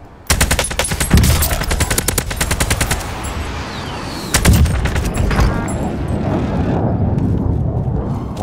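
Rapid automatic gunfire from a Call of Duty Warzone Plunder match rattles loudly in long bursts, with a heavy boom near the middle and continued battle noise after it.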